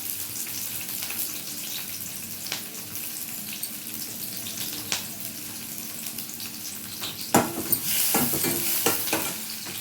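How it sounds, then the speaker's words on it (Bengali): Onions fry in hot mustard oil and get stirred, making a continuous close sizzle broken by scraping strokes. Near the end comes a louder burst of stirring with a splashy, watery clatter. "যতক্ষণে পেঁয়াজটা ভাজা হচ্ছে"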